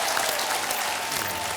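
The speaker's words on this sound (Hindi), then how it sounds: "तालियां आमिर के लिए।" Studio audience applauding a contestant on a televised Hindi game show, a dense, steady wash of clapping that holds at full strength throughout with no voices over it.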